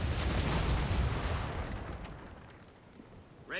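Ship cannons in Assassin's Creed Rogue boom in a heavy, loud burst that rolls and fades over a few seconds, with a fresh blast cracking in right at the end.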